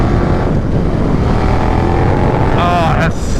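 A 2022 KTM 1290 Super Duke R motorcycle engine revs loud and close with the clutch pulled, a steady roar that climbs in pitch near the end, with wind rush behind it.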